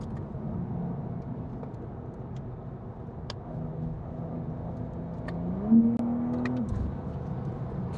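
A BMW M2 Competition pulls steadily in eighth gear, its engine a continuous mid-pitched drone with a gently rising tone, then easing off near the end, heard from inside the car with no talking.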